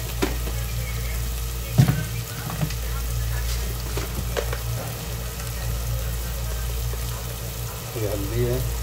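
Stuffed bitter gourds fry in a pan with a steady, loud sizzle and occasional clatters as spices such as coriander powder go in, while a voice talks over the cooking.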